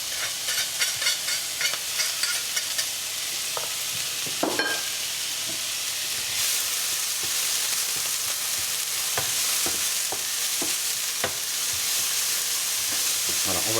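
Shallot and grated ginger fry in a pan with a continuous bright sizzle. Close, steady stirring clicks and scrapes run through it, and there is no talking.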